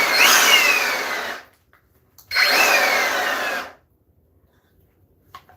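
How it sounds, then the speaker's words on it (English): A handheld blower runs in two loud bursts of roughly a second and a half each, with a short silent pause between them, its whooshing, whining airflow close by and no speech. "And I use the blower too."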